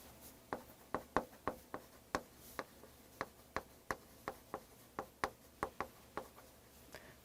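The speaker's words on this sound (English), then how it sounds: "this one we do need to write notes" Pen or pencil writing notes by hand on paper, a quick series of sharp, close scratching strokes and taps in an irregular rhythm, fairly faint in a quiet room with no talking.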